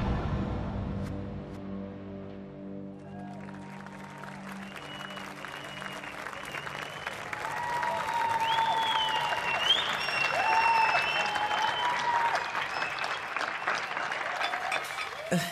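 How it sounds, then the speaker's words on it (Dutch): Evening applause for hospital staff during the coronavirus outbreak, scattered clapping and cheering from a distance that swells after a few seconds, with whistles and a few voices mixed in. "Het beroemde applaus."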